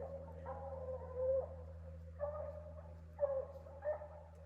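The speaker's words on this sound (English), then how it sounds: "she started barking more, tracking" A hound barks in short, repeated bursts with pauses between while tracking on a raccoon hunt, fairly close, over a steady low hum in the background.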